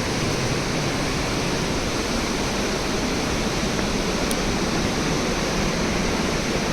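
A waterfall beside a bridge on the Madmaheshwar trek in the Himalayas roars in a loud, steady, unbroken wash of rushing water, with no voices.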